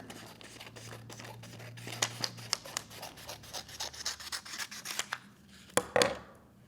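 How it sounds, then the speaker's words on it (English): Scissors snip through black paper for a St Patrick's Day hat decoration, a close run of quick, crisp cuts and rustles with a louder paper crinkle at the end. "I cut it down the middle so it's a little bit skinnier."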